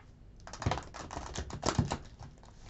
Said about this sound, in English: give your cards a shuffle.